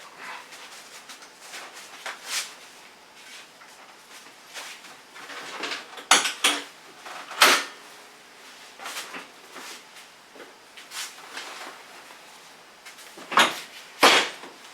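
Back seat on a Honda Pioneer utility vehicle flipped up and stowed, scattered clacks, thumps and latch knocks at varying loudness, with a couple of sharper bangs near the end and no speech.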